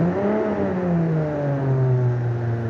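A car engine in the BeamNG driving simulator, built in Automation, revs with a smooth, loud tone that sweeps down and then holds a steady pitch. No one speaks over it.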